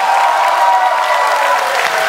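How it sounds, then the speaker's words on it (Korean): A Korean audience in Gyeongju gives loud, sustained applause after a performance by a Turkish group from Istanbul, a thick, continuous wash of clapping close at hand with faint tonal sound mixed in. "박수 한 번 더 부탁드리겠습니다."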